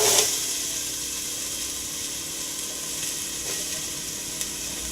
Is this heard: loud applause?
no